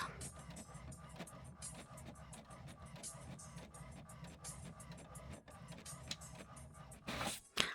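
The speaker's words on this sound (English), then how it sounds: "It's a very slow printer." A slow old printer works through a list, giving off a faint, steady mechanical whir broken by evenly spaced clicks and ticks that end in a brief louder burst of movement.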